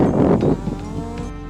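A carabao, or water buffalo, in an Aeta farming community in Capas, Tarlac, gives a deep, close low that is loudest in the first half-second and then fades into a softer, drawn-out tail.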